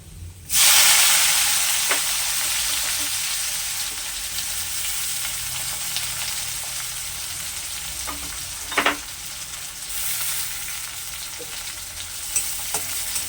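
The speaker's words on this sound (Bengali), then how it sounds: "এই দেখুন পেঁয়াজটা লাল লাল করে ভাজা হয়ে গেছে।" Sliced onion fries in hot oil with cumin and garlic for a rohu fish kalia, giving a steady, close sizzle that hisses loudly at the start and is broken by a few light stirring clicks.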